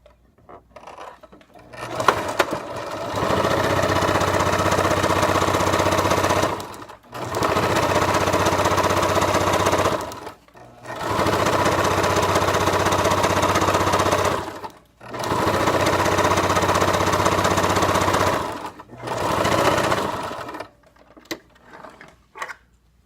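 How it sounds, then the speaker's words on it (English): A sewing machine runs a long straight seam in four sustained, steady bursts of several seconds each, with brief pauses between them; the motor whir is loud and close, with no voices. "I'm going to sew one more line."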